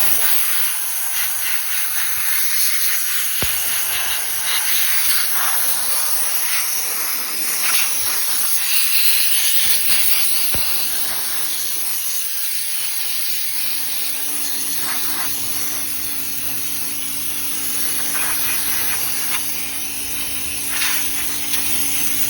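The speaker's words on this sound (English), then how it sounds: "it connects to your air compressor, and it just sprays on like this" Steady pressurised hiss from an air-compressor-fed degreaser sprayer misting an LS-swapped engine in a C10 truck, continuous and close, with a faint low hum underneath in the latter half.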